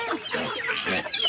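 A chicken clucks in several quick bursts nearby, with higher squawky notes toward the end.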